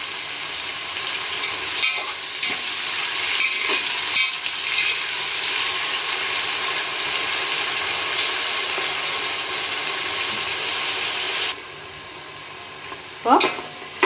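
Onions with salt frying until golden for prawn biryani give a steady close sizzle with occasional stirring scrapes. The hiss drops quieter near the end before a final clatter.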